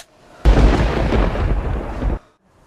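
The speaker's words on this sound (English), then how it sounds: "there is a thunder roll" A GarageBand thunder roll sound effect: a sudden loud rumbling crack that sustains as a dense, heavy roar for about two seconds before cutting off abruptly, close and alone.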